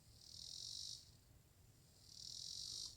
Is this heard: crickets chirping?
yes